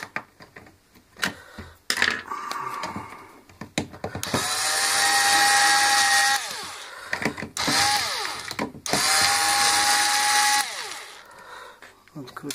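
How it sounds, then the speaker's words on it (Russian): A powered screwdriver backs screws out of a clothes iron being repaired, giving two close, sustained whirring bursts separated by clicks and handling noises. "Теперь два винта вот здесь откручиваем."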